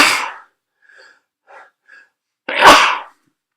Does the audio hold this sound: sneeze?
yes